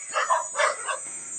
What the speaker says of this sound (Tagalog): Aso na habol, oh.